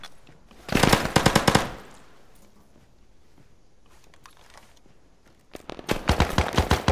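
Two loud, rapid bursts of machine gun fire in a military video game, close and rattling, separated by a few seconds of quiet background.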